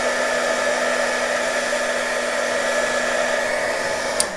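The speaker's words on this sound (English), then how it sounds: "So I'm going to take my heat gun. And I'm going to heat that up." A heat gun blows a steady, loud, even whoosh of hot air while warming beeswax on a junk journal cover, holding one unbroken tone with a brief click near the end and no speech.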